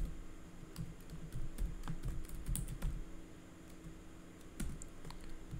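Computer keyboard typing during a Python coding session, a steady run of light, quick key clicks at close range with a few louder taps and no voices.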